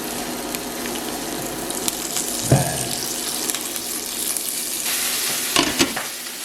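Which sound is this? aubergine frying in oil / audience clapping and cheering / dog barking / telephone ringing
aubergine frying in oil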